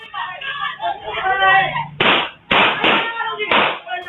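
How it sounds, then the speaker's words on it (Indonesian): A voice talks at first, then several sharp, loud gunshots ring out in quick succession on a CCTV recording in Makassar, each one a sudden crack that cuts through the surroundings. "Dari rekaman CCTV milik warga terdengar beberapa kali suara tembakan"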